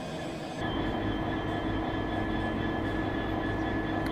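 A colourful train rolls through Westbury station, a loud, dense continuous rumble with steady tonal hum, close and sustained from start to end without speech.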